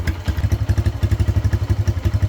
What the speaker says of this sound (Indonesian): motor sudah nyala, bisa nyala